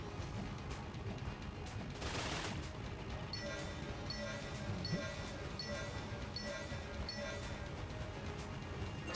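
Rapid, repeated bursts of science cannon gunfire from the video game Enter the Gungeon, with a regular rhythm of shots under a busy layer of game sounds and one louder burst near the start.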